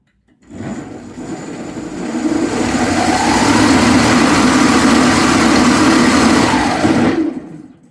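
A brushed electric motor spins up during a speed test, giving a loud steady whirring hum that builds over a couple of seconds, holds evenly, then cuts off sharply near the end.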